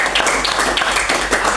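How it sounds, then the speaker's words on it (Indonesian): Classroom students clapping their hands during a lesson: dense, loud, close clapping with a slightly uneven pulse of sharper claps. "ya tepuk tangan"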